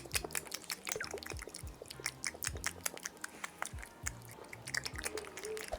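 Close chewing while eating, with wet, rhythmic bites and mastication sounds repeating steadily and up close, with no talking.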